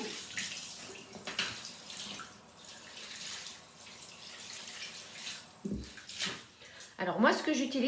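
Tap water runs into a sink while face cleanser is rinsed off, a soft continuous splashing with brief louder gushes near the end, and a voice speaking over it.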